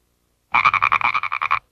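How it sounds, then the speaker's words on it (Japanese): A frog croaks in a quick rhythmic series of about ten loud, rasping pulses, clear and alone after a moment of silence, played as a sound-guessing quiz question. "残念、カエルだ。"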